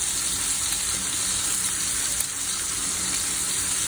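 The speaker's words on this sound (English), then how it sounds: "add another tablespoon of butter to the pan" Steak frying in a pan with garlic, thyme and butter gives a steady, dense, loud sizzle and crackle that runs unbroken throughout, with no voices.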